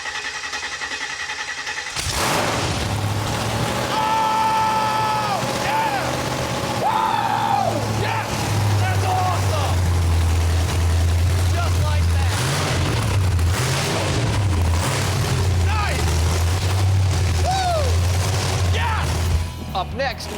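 A Willys fitted with a 383 stroker small block Chevy V8 fires up after a brief silence and roars loudly and steadily close by, with rising revs over a deep rumble; voices speak over it.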